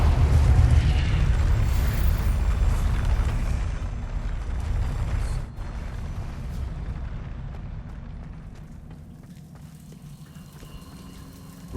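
Confringo explosive spell in the video game Hogwarts Legacy: a heavy, rumbling blast that starts loud and slowly fades over several seconds into a lingering crackling tail, ending with a brief sharp burst.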